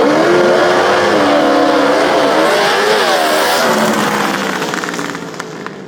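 A Craftsman racing lawn mower engine screams at high revs at a lawn mower drag race in Goldendale, a loud, close, sustained whine rising and wavering in pitch before easing off toward the end.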